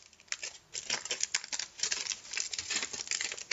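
Tinfoil being unwrapped and unfolded up close, a dense run of crinkling, crackling rustles with brief pauses, fairly quiet and with no voices.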